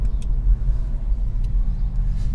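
A BMW M135i with the N55 engine drives along, producing a steady low engine rumble and road drone heard from inside the car, with a few faint ticks above it and no speech.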